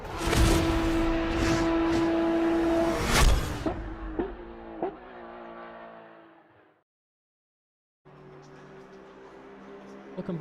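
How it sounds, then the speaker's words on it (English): Race cars at Imola pulling away onto out laps at the start of a qualifying session, engines loud and close at first with a rising whine, then easing off and fading before a quieter resumption of engine noise. "The cars that you see in front of you are just starting their out laps"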